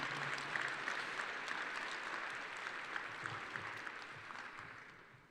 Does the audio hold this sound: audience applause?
yes